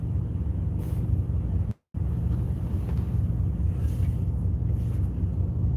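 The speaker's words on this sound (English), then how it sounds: "I gotta go step on the accelerator before the truck turns off." A steady, low idling engine rumble drones on close by, broken by a brief dropout, with faint wind noise over the top.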